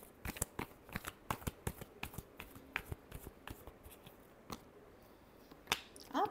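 Tarot cards being shuffled by hand, a quick run of crisp, close snapping taps that slows and thins out, followed by a few scattered flicks near the end, quiet overall with no talk.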